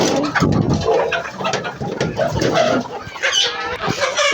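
Several chickens clucking and squawking up close, irregular bursts of calls overlapping one another, loud and busy.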